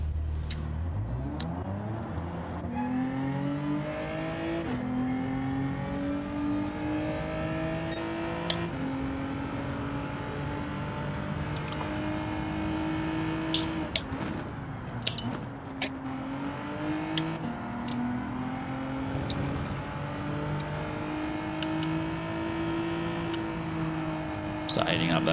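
A race car engine in Gran Turismo 7 holds steady in third gear with a loud, continuous drone that climbs and dips in pitch as revs change, and there are a few brief clicks over it.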